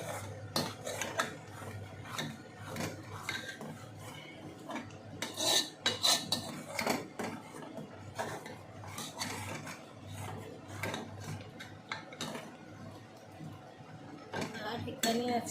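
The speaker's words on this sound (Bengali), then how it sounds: "চলো খাবার বেড়ে তোমাদেরকে দেখাচ্ছি। তো এই আমার খিচুড়ি প্রায় হয়ে এসছে।" Khichuri being served at home, with plates, pots and cutlery clattering close by in frequent sharp clinks and scrapes over a low steady hum.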